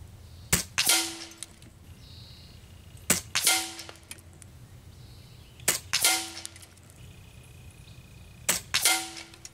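Air Venturi Avenger PCP air rifle fired at a target 75 yards out, four sharp separate shots spaced a few seconds apart, each a crisp crack followed by a short ringing tail, with no talking.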